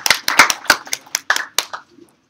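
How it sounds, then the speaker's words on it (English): A small group at a hack night giving themselves a round of applause, sparse loud individual claps close by, irregular and spaced out, dying away after about two seconds. "Give yourselves a round of applause."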